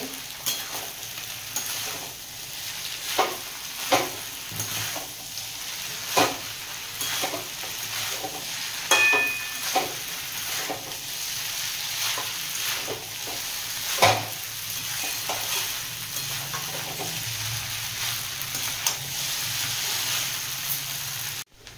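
Egg chowmein stir-fried with soy sauce in a pan, a continuous sizzle broken by repeated scraping stirs of the noodles at an uneven rhythm, close and steady with no voices.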